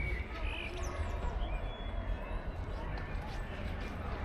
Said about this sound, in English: I still don't know these singing birds